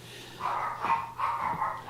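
Dogs bark a few times in short, clipped yaps at moderate distance, three or four quick barks over a low steady hum, with no talking.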